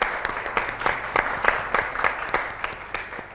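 Audience applause fills a hall at a Ramadan naat competition, dense steady clapping with sharp individual claps standing out throughout, close and fairly loud with no talking.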